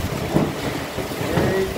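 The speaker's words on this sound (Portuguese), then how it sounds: "Olha lá como é que tá a chuva." Heavy rain driven by strong wind during a storm in Santana do Ipanema, Alagoas, a steady broadband wash of downpour and gusts recorded close on a handheld phone, with no talking.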